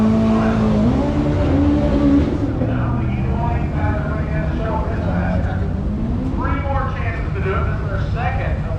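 Toyota Supra with a turbocharged engine idling and revving nearby on a busy street at a car meet, its steady engine drone running under loud, continuous talk from people close by.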